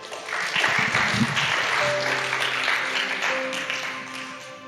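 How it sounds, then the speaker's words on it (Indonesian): Applause at a youth church service, a burst of clapping from the congregation that swells early and gradually fades, with a sustained musical tone ringing underneath. "Tepuk tangan untuk Iren"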